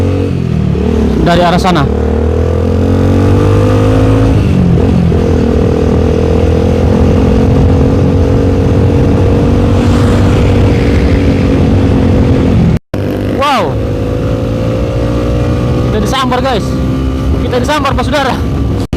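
A motorcycle revs and rides through the city at night in Ambon, its engine loud and close, rising and falling with throttle, while someone talks over it.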